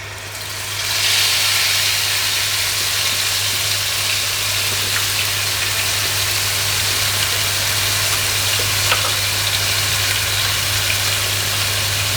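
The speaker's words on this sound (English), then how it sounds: "we're going to get the base of that harissa paste. We're just going to cook that out a little bit" Harissa paste sizzles in a hot pan with a steady, dense hiss that starts after a moment and holds evenly throughout, over a low constant hum, with no talking.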